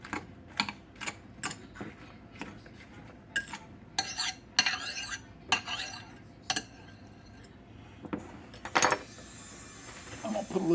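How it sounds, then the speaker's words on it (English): Yellow summer squash fritter batter with sweet onion is stirred in a bowl with a single utensil, giving repeated close scraping and clinking strokes that come in an irregular rhythm. "All right, stir this around."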